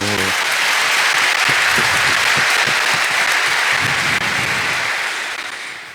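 A Catholic Mass congregation gives a loud sustained round of applause to the Lord. The dense, even clapping fills the space close by and then fades out near the end.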